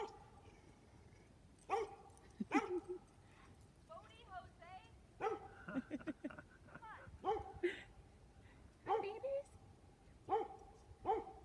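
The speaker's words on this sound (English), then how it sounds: "Here comes a doggy." A dog barks several times at close range, sharp single barks spaced out, with quiet talking and a few whines in between.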